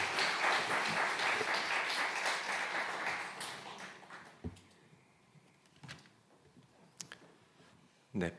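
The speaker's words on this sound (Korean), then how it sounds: "큰 박수로 환영하십시다" A church congregation applauds in welcome for a visiting pastor. The clapping is dense and loud, then thins out over several seconds into a few scattered claps and small knocks.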